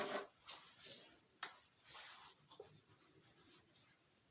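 Pen writing math notes on paper, with soft intermittent scratching strokes close up, faint and quiet with no talk.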